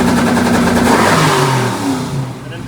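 A Firebird engine held at full throttle against a two-step launch limiter set at 3,500 rpm, a loud steady rev that holds, then dips slightly and settles toward the end, with no talk.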